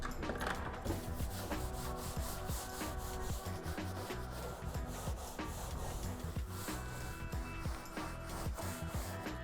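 Car interior upholstery scrubbed with an enzyme cleaner, a steady close brushing and rubbing rasp that runs continuously at moderate level without pauses or voices.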